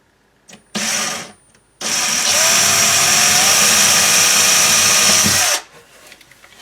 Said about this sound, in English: We're just going to put a small little hole with the drill bit,